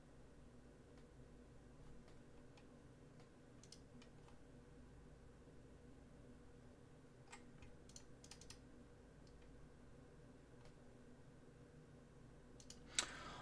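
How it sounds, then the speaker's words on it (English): Sparse light clicks of a computer mouse and keyboard while placing stock orders, faint and scattered over quiet room noise, with a sharper cluster of clicks near the end. "That's why you hear a bunch of clicking there."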